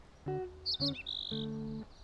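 A small bird chirps in three short, clear bursts, with high whistled notes between them, close and fairly loud against a quiet background.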